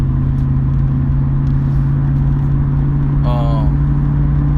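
A car is driving, its engine giving a steady, loud low rumble with a constant hum throughout. Someone talks over it.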